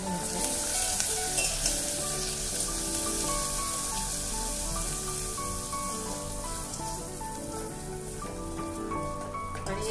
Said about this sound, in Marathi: हे आता छान तेल सुटस्तवर आपण परतून घेऊ